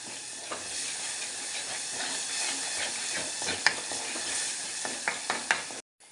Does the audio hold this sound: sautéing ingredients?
yes